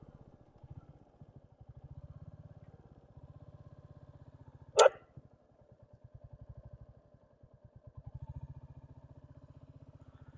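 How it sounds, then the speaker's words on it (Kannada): A single sharp dog bark cuts in near the middle over the steady, chugging drone of a motorcycle engine on a solo highway ride, with the engine running throughout before and after. "ಇಲ್ಲ ನಾಯಿ ನೋಡಿದ್ರಲ್ಲ, ಅದ ಹಂಗೆ ಬಿಟ್ರೆ ಕಚ್ಚಕ್ಕೆ ಬರ್ತಿತ್ತು ಆಕ್ಚುಲಿ"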